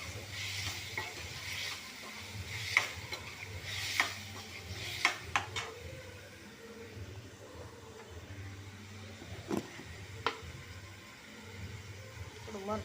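Spices tempering in hot oil in a pan before tomatoes go in for a vegetable dish for three, a steady low sizzle with scattered sharp pops and crackles, close and moderate in level.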